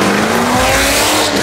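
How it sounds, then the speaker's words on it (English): A car with a cam and full exhaust does a burnout at a car cruise, a loud close roar of engine and squealing tires filling the short moment without pause. "That thing has a cam and a full exhaust."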